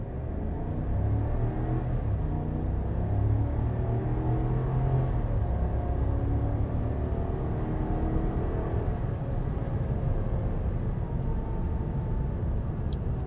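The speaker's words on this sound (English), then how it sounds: "And that's what this motor sounds like," Engine of a 2025 Chevy Silverado 2500 HD Custom pickup accelerating from low speed toward highway pace, a steady droning rumble heard from inside the cab, broadband and continuous without talk.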